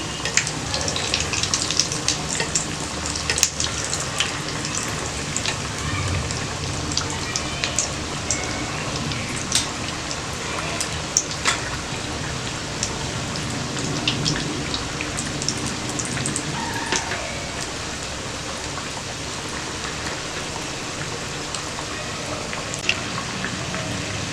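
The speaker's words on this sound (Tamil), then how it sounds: "நீங்கள் பேன் ஃப்ரையும் பண்ணிக்கலாம், ஷாலோ ஃப்ரையும் பண்ணிக்கலாம்." Mutton cutlets shallow frying in a pan give a steady, dense sizzle with fine crackling pops throughout, close and even, with no talk.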